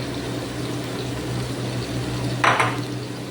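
A pot of mixed fish ingredients being stirred, a quiet steady scraping and bubbling over a low hum, with a brief louder clink of the utensil against the pot near the end.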